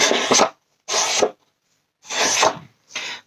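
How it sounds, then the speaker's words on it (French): A sponge scrapes across a card in four separate rough strokes, each about half a second long with short pauses between them, close and fairly loud with no talking. "une éponge. Et on gratte."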